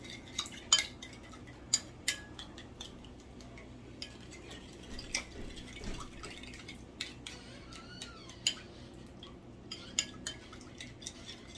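A utensil stirs melted butter mixed with a garlic and herb seasoning pack in a small dish, giving faint, irregular clinks and scrapes against the container with quiet pauses between.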